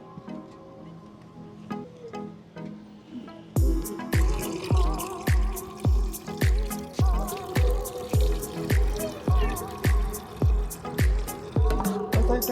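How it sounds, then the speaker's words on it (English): Water being heated and then poured into a vessel during a roadside breakfast stop, a steady trickle-and-fill wash running underneath a regular series of sharp, evenly spaced clicks or taps, fairly close and moderately loud. "He's gonna be heating up some water"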